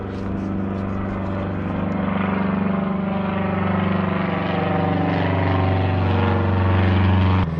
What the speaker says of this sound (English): there's an airplane coming.